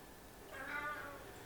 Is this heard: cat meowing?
yes